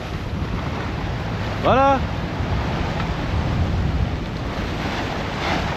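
Steady ocean surf and wind roar from open water near Gibraltar, with a brief high whistling dolphin call rising above it and a single short spoken word.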